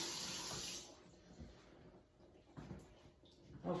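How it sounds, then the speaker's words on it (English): Tap water rinsing the insides of Rock Cornish hens: a brief, faint rush of running water that fades into quieter splashes and handling. "I'm still going to give the insides a rinse to get rid of all the icky stuff"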